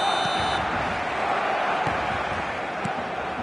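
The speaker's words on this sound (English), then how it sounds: "And the matchday noise at this place is truly special." A stadium crowd at a football match produces a steady, dense roar that holds an even level throughout, with occasional faint peaks.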